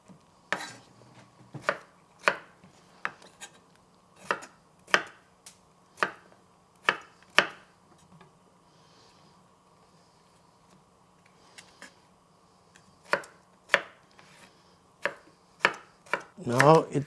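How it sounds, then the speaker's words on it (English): A knife chops a potato into very small pieces on a cutting board, sharp close knocks coming in uneven bursts with a quieter pause in the middle, then a quicker run of cuts at the end. "Let me go and cut my potato and come back to check on this one."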